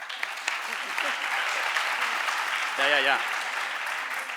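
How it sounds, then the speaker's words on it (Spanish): Audience applauding during a talk on housing and rent, a continuous spread of clapping with a short spoken word and a brief voice heard over it. "Está guay, aplaudís al señor mayor"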